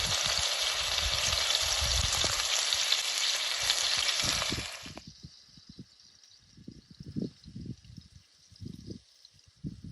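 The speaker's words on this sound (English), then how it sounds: "Can you hear the sizzling?" Loud, steady sizzling of food frying in a pan at an outdoor wild camp in the Cheviot Hills for several seconds, then it drops away to quieter crackles and soft knocks.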